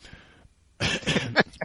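A man clears his throat in one short, rough burst after a brief pause, close to the microphone, with a faint breathy lead-in before it.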